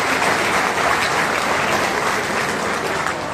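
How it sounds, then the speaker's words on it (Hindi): A large audience claps loudly for military veterans of Bulandshahr district at a gathering honouring Kargil war soldiers, a dense, unbroken roar of hands at close range, steady throughout with no voices standing out. "आप एक बार तालियां बजाएं जिला बुलंदशहर के वेटरन्स के लिए"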